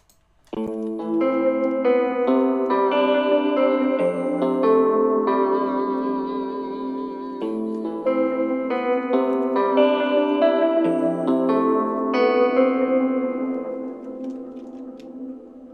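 A synth melody drenched in lush reverb with a faint noisy haze, notes blending and trailing off into a long wash at the end.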